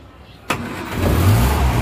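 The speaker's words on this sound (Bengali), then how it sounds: "আসুন দেখি গাড়িটা স্টার্ট হচ্ছে।" A 1950s Austin A40 vintage car with an old petrol engine cranks and catches, a sharp starter click followed by the engine firing and settling into a loud, steady close-up idle.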